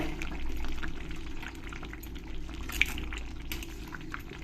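Chicken curry simmering gently in a pan on low gas as sour yogurt is stirred in, a steady soft bubbling and liquid sizzle with small pops, fairly quiet and close, no talking.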